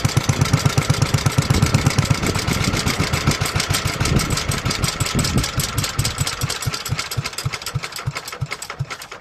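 A 1954 Petter A1 stationary engine idles close by with loud, regular thumping beats that carry through the whole stretch and slow slightly toward the end.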